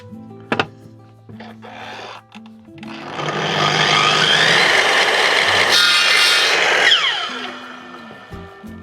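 Wood is sawn by hand for a rustic garden basket, the blade rasping in a dense, fairly loud continuous stroke for several seconds, preceded by a few sharp knocks and short scrapes as the piece is positioned.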